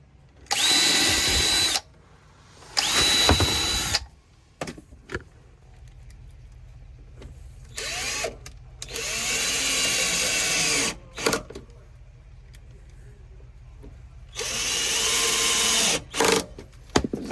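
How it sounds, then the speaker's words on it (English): A power drill drives screws into the base of a camper cabinet built inside a Honda Element, running in several loud, separate bursts of whirring with short quiet gaps and small knocks between them. "I'm going to put some screws on this side to hold it in"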